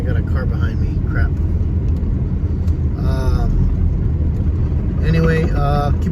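Road noise from a car driving on a windy night, a steady low rumble of engine and tires throughout, with someone talking intermittently over it.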